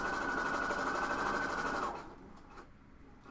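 A home sewing machine runs steadily at a fast, even stitching rate for about two seconds, loud and close, then stops, leaving quiet room tone.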